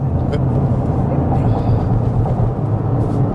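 A Toyota GR Corolla accelerates in third gear on a hillclimb, heard from inside the car as a loud, steady low engine drone with road rumble, with faint voices underneath.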